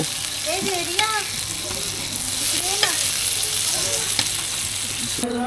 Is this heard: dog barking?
no